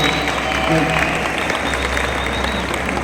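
A crowd at a comic convention in Guatemala applauds for a guest, a dense steady wash of clapping with a low hum underneath throughout.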